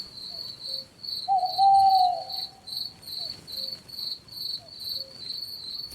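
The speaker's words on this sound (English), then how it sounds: "soft crickets weaving their song, steady and low, a rhythm that matches your breath." Crickets chirp on a forest path at night in a steady, even pulse of high trills, close and clear, with a brief low bird-like call mixed in and no voices.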